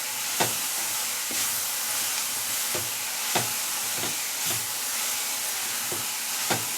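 Onions frying in a pan while making masala akki rotti, a steady broad sizzle with light stirring clicks and scrapes recurring every second or so, close and alone without talk.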